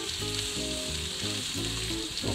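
Snapper fish fries in a hot pan with a dense, steady, loud sizzle and crackle that runs the whole time, close up, with no talking.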